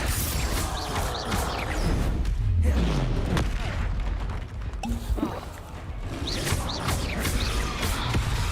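Booming spell blasts, Bombarda and Confringo among them, burst through Hogwarts Legacy combat on PC: repeated heavy impacts and crashing debris with mechanical clatter between them, and faint voices in the mix.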